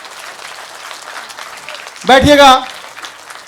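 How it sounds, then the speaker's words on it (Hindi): Applause from the crowd at a poetry gathering (kavi sammelan) continues at a moderate level, thinning out, and a voice briefly breaks in over it partway through. "दोस्तों एक बार हाथ उठा के तालियां जोर से दादा के लिए"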